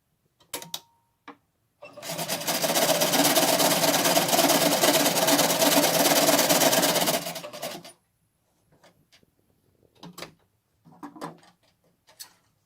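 A sewing machine stitches a cotton mask in one continuous whirring run of about six seconds, loud and close, framed by a few sharp clicks and handling taps before and after.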